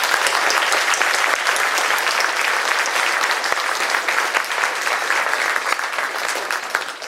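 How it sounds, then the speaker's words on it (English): A large audience applauds at an engineering award ceremony, dense sustained clapping filling the room evenly from start to finish, loud and steady without speech. "Let's give them all one raw round of applause."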